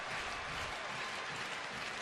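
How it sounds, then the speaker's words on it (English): A Saturday night baseball crowd cheers at a Texas vs. Cleveland game in 2012, a steady, dense roar of many voices and clapping that fills the whole stretch without a break. "This Saturday night crowd hooping it up."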